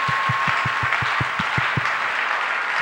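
A church congregation applauds in a steady crowd sound, with a rhythmic low thumping beat running under the first half of the clapping.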